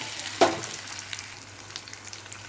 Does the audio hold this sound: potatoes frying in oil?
yes